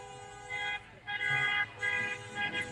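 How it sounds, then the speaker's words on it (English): Car horns toot intermittently at a rolling car show at dusk as vehicles pass along a town street, several short honks at a moderate distance over background traffic. "I can hear them honking their horns"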